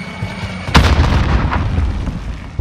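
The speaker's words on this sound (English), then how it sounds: "Throwing frag." A frag grenade in Call of Duty: Modern Warfare bursts with a sharp, loud blast followed by rumbling battle noise and a second fainter thump.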